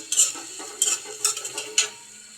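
Stirring spiced onion dopiaza in a pan, a spoon scraping and clinking against the metal in five or six distinct strokes over a faint sizzle, close and fairly quiet.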